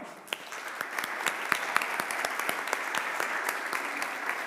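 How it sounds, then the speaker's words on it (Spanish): Moderately distant applause from a group, steady clapping with a few distinct individual claps popping out above the rest. "Ese aplauso."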